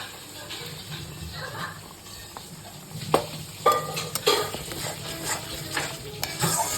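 Ground poppy seed and cashew paste going into hot oil in a pan, sizzling softly while a spoon stirs and scrapes, with a few louder clinks and scrapes near the end.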